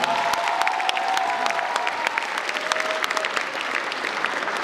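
A crowd applauds at a student spring festival gala concert before an award ceremony, dense continuous clapping from a large hall audience, steady and fairly loud throughout with faint cheering mixed in.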